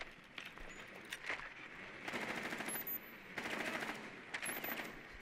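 Rapid video-game gunfire in a tactical shooter round, bursts of automatic shots crackling in quick clusters with short pauses between volleys, moderately loud and close.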